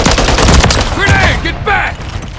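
Video game gunfire in Call of Duty Modern Warfare 3 on an Afghan map, with loud rapid automatic bursts mixed with shouted soldier callouts over continuous combat noise.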